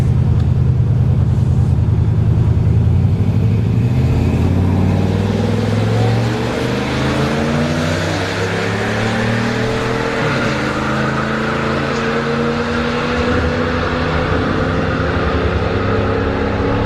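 A Ram truck and an Infiniti launching down a drag strip at Orlando Speed World, engines roaring loudly and rising steadily in pitch as they accelerate away and continue for several seconds.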